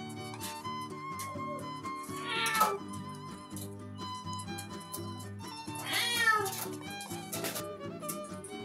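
A person imitates a cat's meow at home where pigeons are being kept away from lentils, with two drawn-out meow-like calls near the middle and end over a constant tonal background hum.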